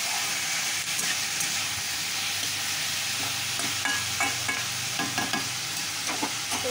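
Beef fat frying in a pan with a chickpea curry, giving a loud, continuous hissing sizzle close up, with repeated scraping stir strokes toward the end.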